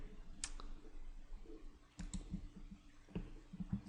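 Soft, close computer mouse clicks in a quiet room, a few scattered single taps spaced irregularly over several seconds.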